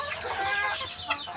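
A chicken clucks and squawks harshly up close in a brief, continuous agitated burst during a scuffle.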